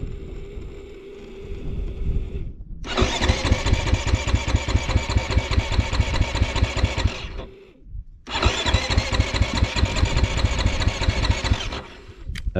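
Engine of a Can-Am X3 RR turbo sand car cranking twice without catching, each long, loud, rhythmic starter churn lasting several seconds with short pauses between, close by.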